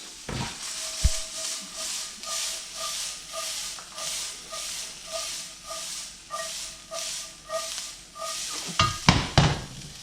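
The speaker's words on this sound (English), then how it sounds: "Gonna let our corn simmer." Corn and onions with seasoning simmer in a pan, giving a steady close sizzling hiss that swells and fades in regular waves, then a few sharper pan clatters near the end.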